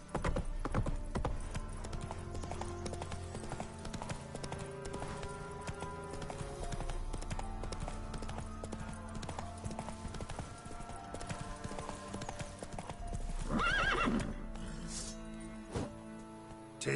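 Roach the horse in The Witcher 3 trots steadily with rhythmic clip-clop hooves over a layer of game music, and a short neigh breaks through near the end.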